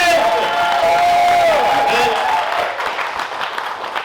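Comedy club audience applauding backstage at a stand-up show, a dense sustained wash of clapping with some voices and cheers mixed in, fading slightly toward the end.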